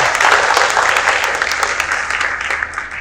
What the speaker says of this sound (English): Just let's give her a round of applause.